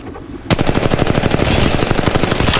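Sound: gunfire in the video game Apex Legends Mobile

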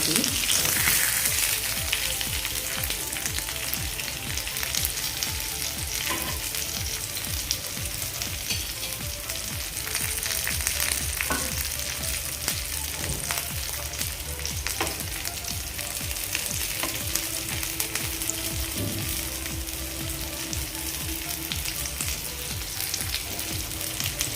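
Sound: bangda mackerel fish frying in a pan

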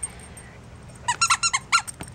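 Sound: dog squeaking a Tough Ball Squeak Ball toy

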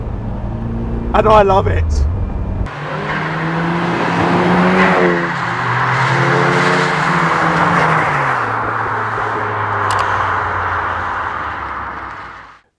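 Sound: Caterham Super Seven 2000 engine, raucous rorty thrum

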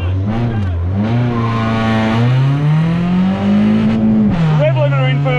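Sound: modified Toyota Yaris accelerating on a race track

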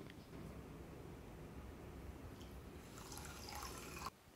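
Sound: water being poured into a pan

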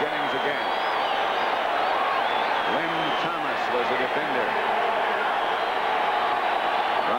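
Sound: football stadium crowd yelling for the defense

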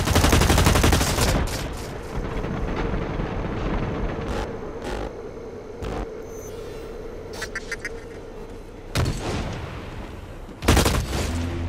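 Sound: bolt action rifle gunfire in a video game

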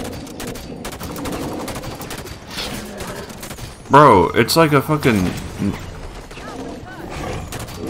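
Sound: cannon gunfire in Halo 5: Guardians video game

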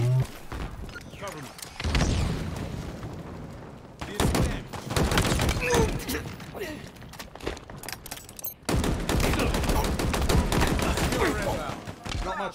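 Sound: gunfire from a power weapon in video game Halo Infinite

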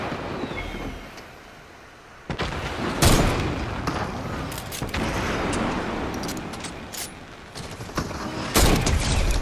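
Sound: gunshots in the video game Fortnite

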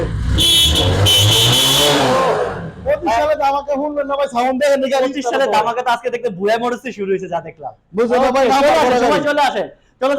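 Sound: motorcycle engine running, Bajaj Discover 125

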